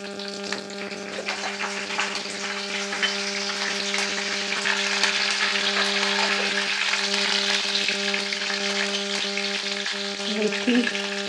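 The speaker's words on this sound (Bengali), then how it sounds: "এখানেও সর্ষে ফোড়ন দিলাম" Mustard seeds, curry leaves and fenugreek crackle and sizzle steadily in hot oil for South Indian dosa balls and sambar, a dense close frying hiss with faint stirring and a constant low hum beneath, no talk.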